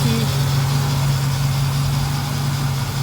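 A 1986 Monte Carlo SS with Edelbrock intake, carburetor and headers runs at a steady idle, its deep low hum loud, close and even throughout.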